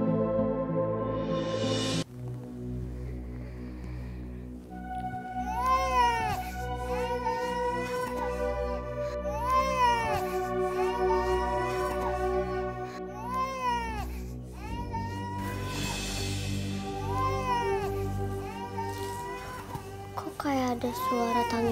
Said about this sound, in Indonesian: Itu suara tangisan bayi.